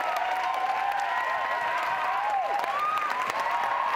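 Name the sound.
standing ovation applause after a 40-minute performance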